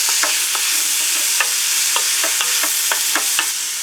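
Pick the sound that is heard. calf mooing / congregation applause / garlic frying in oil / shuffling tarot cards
garlic frying in oil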